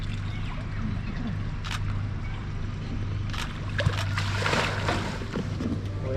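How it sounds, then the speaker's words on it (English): Fishing boats moving on the Adelaide River during a crocodile cruise, a steady low engine hum with water wash and wind, plus brief splashes and knocks over the continuous drone. "We have to watch these boats, these fishing boats."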